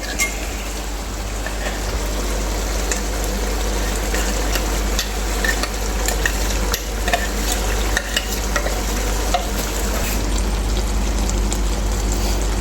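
Ground paste is stirred into frying Kerala-style roasted-coconut chicken curry. A loud, continuous sizzle and bubbling runs under busy scraping and stirring throughout, with no talking.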